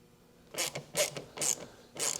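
A plastic brake light bulb socket on a Chevy Silverado is twisted tight in four short, close ratcheting clicks and creaks, each separated by a brief pause.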